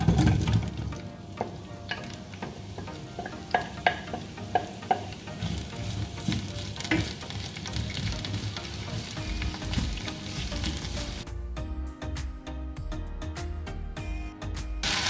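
Sliced onions, tomato and green chili fry in hot oil for a lamb biryani, a steady sizzling crackle with scattered utensil knocks and stirring scrapes; the texture changes near the end as the frying continues alone.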